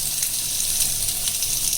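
Minced garlic sizzles steadily in a hot pan for a grilled fish with herbs, a dense, even crackle held at constant loudness throughout the short stretch, with no talking over it.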